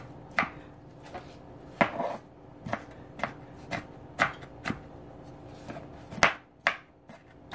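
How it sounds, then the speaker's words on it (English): A knife chops through an onion on a board, about a dozen sharp, close knocks at an uneven, unhurried pace with brief gaps between them, and no talking. "Let me cut this up."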